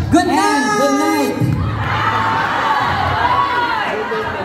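An audience at a live comedy show in a London hotel cheers and shouts, a dense crowd roar that swells after a brief voice at the start and holds loud throughout.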